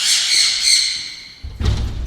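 A hand-tame parrot on a bird farm lets out a loud, harsh squawk lasting over a second, followed by a brief thump and rustling close to the microphone.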